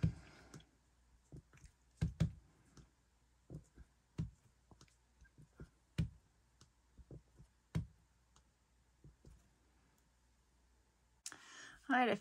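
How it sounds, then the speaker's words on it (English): A clear acrylic stamp is pressed onto a scrapbook page to print a star, giving a series of soft, irregular taps and clicks against a quiet background, with a brief rustle at the end. "All right, I finished my stamping."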